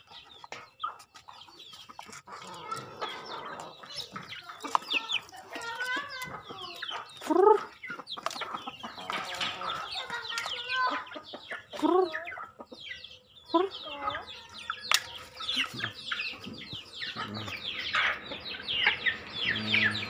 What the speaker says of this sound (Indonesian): ayam sore-sore kasih makanan ayam